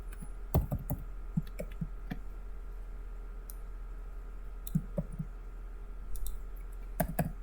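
Computer keyboard keys clicked in quick clusters for copy and paste shortcuts, crisp close taps in short bursts over steady electrical hum, with pauses between groups.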